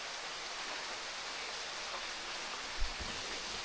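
Heavy rain pouring down in a forest, a dense, steady hiss of water with no break, fairly quiet overall, with a soft thump near the end.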